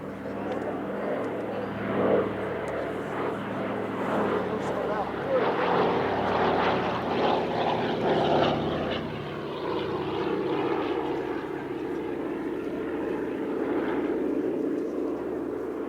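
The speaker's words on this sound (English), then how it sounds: "Two aircraft now from the Rolls-Royce Historic Flight." Two propeller aircraft of the Rolls-Royce Historic Flight fly at the Midlands Air Festival airshow, their engines droning loud and continuous with a rising and falling roar, under a commentator's talk.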